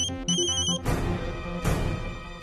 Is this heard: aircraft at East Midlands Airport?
no